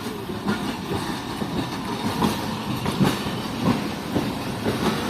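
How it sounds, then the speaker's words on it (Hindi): Jand Passenger train hauled by a GMCU locomotive shunting at Jand Junction railway station, a loud close rumble of rolling carriages with rhythmic clickety-clack from wheels crossing rail joints. "ट्रेन भी मेरी इस वक्त शंट हो रही है"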